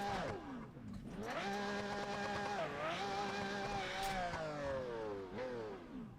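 A race car in a sim racing game such as BeamNG or Assetto Corsa launches and brakes, its engine droning steadily and climbing in pitch through gear changes, loud and continuous throughout.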